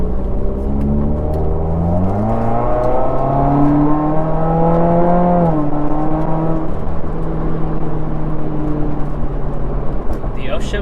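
A 2019 Subaru WRX fitted with a Remark Stealth Edition axleback exhaust pulls hard in Sport mode, engine note rising through quick upshifts with steady, loud exhaust drone, and a voice talks over it throughout.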